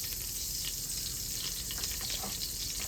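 Bacon sizzles in a pan as it crisps, a steady close hiss and crackle with tiny pops, and no talking over it.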